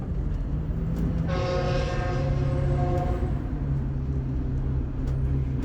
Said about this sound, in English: Eastbound Metrolink heading to Fontana, Rialto, San Bernardino, and downtown San Bernardino.